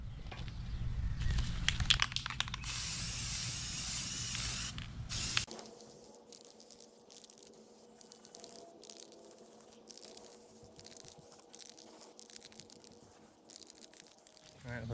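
Aerosol rust-protection paint hissing loudly in a steady burst for several seconds, then stopping, followed by quieter clicks and handling noises of a workspace while coating a Class B van part.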